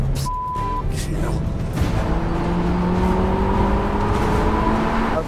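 Car lapping the Monaco Grand Prix street circuit, its engine note rising and falling in long sweeping pitch changes as it accelerates through the gears, with people talking over it from inside the cabin.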